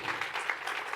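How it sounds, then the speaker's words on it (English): An audience at a carpark cinema screening gives a brief patter of applause, fairly faint and scattered, lasting only a moment. "Another round of applause for Belinda Baggs here."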